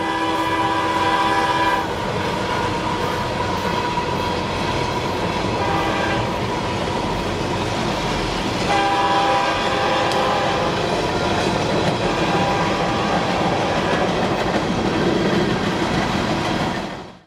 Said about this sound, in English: This is U-147, a Lakeland coal hopper train returning empty.